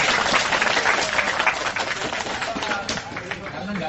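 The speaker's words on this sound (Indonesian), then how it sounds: "Tepuk tangan yang ini" An audience claps loudly and densely at a talk-show style gathering, with the applause mixed with some voices and chatter.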